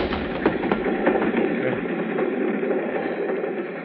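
A moving train rumbles and rattles continuously in an old radio drama, a steady rolling clatter with faint rhythmic clicks.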